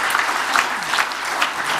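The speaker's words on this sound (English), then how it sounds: "a round of applause for Peter Dornan" An awards ceremony audience claps for Peter Dornan, a dense, steady round of applause filling the hall for the short stretch, with no talk over it.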